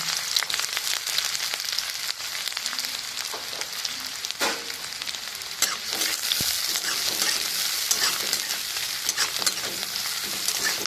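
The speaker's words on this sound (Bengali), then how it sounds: "তেলটা গরম হয়ে গেছে, পেঁয়াজটা দিয়ে দেবো।" Two large onions, cut into pieces, fry in hot oil and are stirred, making a steady close-up sizzle broken by scraping and clinking stir strokes, with no talking.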